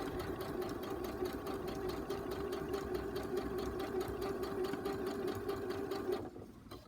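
Sewing machine stitching steadily while attaching a zip, a close, fast, even mechanical whirring hum that runs for about six seconds before slowing and stopping.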